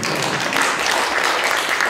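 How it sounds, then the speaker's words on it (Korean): An audience at a university presidential candidate debate applauds, a dense, continuous burst of clapping that lasts briefly at a steady, fairly loud level. "박수 한번 부탁드립니다."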